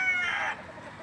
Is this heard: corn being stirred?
no